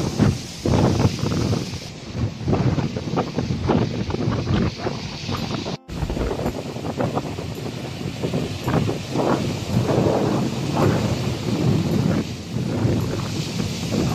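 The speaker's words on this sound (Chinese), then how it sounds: "哇，好大风啊！" Strong coastal wind on Lamma Island, Hong Kong, buffets the microphone in heavy, gusting roars that swell and dip for the whole stretch, with one sharp dropout partway through.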